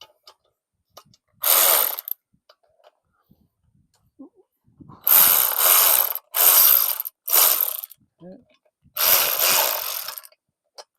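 A ratcheting wrench torques down the pins on a Bauer cement mixer in several loud, close bursts of rapid clicking separated by quiet pauses, with occasional talk between them.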